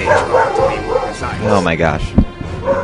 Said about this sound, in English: sorry about my dog barking if you heard that